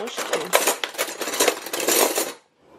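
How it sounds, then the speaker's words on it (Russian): Metal forks and knives clatter and jingle as they are gathered up, a dense run of bright clinking for about two seconds before it abruptly stops. "Возьмем вилки, ножки."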